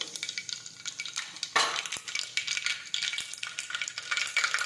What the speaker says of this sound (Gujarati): હવે આપણે તેમાં રાઈ અને જીરું નાખીશું હિંગ નાખીશું